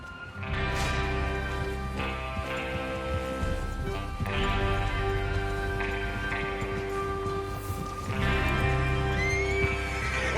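In the video game Red Dead Redemption 2, horses whinny loudly several times over steady galloping hoofbeats, with a busy, continuous rumble underneath and no talking.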